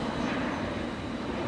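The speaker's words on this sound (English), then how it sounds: "we have Southwest Airlines Flight 775 from San Diego International Airport." A Southwest Airlines passenger jet passes near Midway Airport on a hot day, its engines a steady, broad roar filling the scene with no talk.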